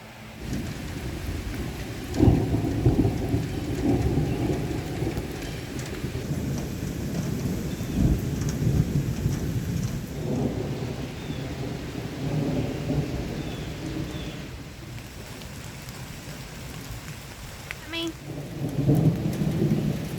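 Steady rain pours while rolling thunder rumbles repeatedly, swelling and fading across a long stretch of storm in Arkansas.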